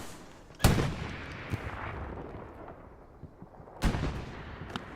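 An anti-tank gun fires twice in a team-based war video game, each shot a loud close boom with a long rolling tail, spaced about three seconds apart over a steady low battle rumble with faint distant pops.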